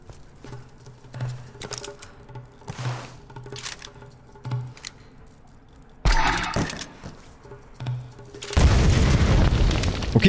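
Grenade explosion in the video game Tomb Raider: light pattering and clicking steps give way to a loud, sustained blast that roars through the final seconds.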